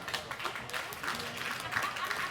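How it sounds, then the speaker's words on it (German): Spectators at a roller derby bout between Stuttgart and Regensburg applaud in a continuous, moderately distant wash of clapping, mixed with crowd noise and some voices. "Das hat einen Applaus verdient."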